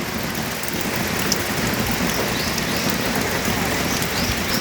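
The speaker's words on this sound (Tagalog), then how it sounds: "Grabe ang ulan." Heavy rain pours during a storm as a loud, dense, steady hiss of drops striking surfaces nearby, with no voices.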